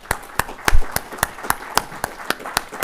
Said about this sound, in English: can I have another round of applause for our speakers?